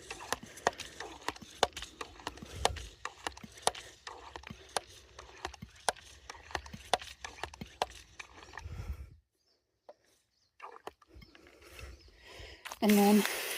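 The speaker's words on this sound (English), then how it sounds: "you just have to pump it to pressurize it." A handheld garden pest sprayer is pumped to build pressure, a fast run of regular mechanical clicks and knocks with a plastic, ratcheting quality, fairly close, followed by a pause and a few scattered handling sounds.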